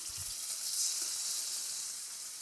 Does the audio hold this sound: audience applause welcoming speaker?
no